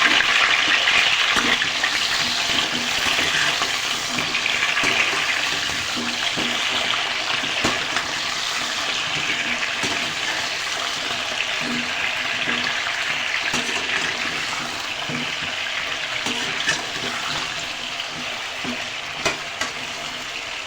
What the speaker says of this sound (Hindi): अब हम करेंगे आलू को फ्राई।